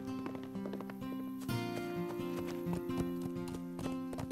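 A wild horse's hooves clip-clop irregularly nearby over a steady tonal hum, moderately loud, with no talking, in an animated cartoon.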